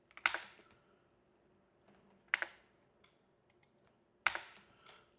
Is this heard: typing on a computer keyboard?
yes